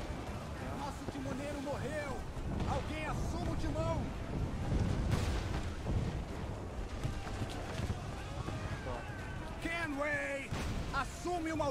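Naval cannons fire from a sailing ship in Assassin's Creed IV Black Flag, a deep boom landing mid-clip amid battle noise, while players talk excitedly over most of it.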